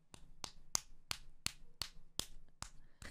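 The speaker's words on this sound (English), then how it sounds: "Can I clap my feet?" Bare feet slapped together again and again, about nine sharp smacking claps at a steady, roughly even beat, close and clear in a quiet room.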